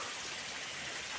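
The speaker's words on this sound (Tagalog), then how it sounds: "Sobrang lakas ng ulan dito guys, tingnan mo." Heavy rain pours steadily at a hillside worksite with open canals where a landslide has occurred, forming a loud, dense, continuous hiss with no voices.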